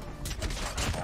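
Gunfire from a headshot in the mobile shooter Call of Duty Mobile, a dense burst of rapid, overlapping shots with a couple of louder cracks, steady and close throughout.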